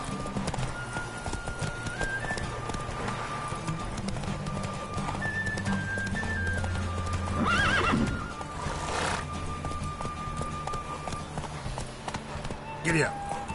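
Horse hooves clip-clop at a steady gallop in The Witcher 3 on PS4, with a loud whinny partway through and a voice speaking over the riding.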